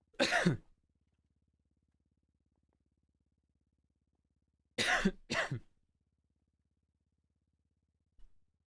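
Three short, sharp bursts in near silence from a character in NoPixel 4.0 on GTA roleplay: one cough, a quick double cough a few seconds later, then a faint final tick.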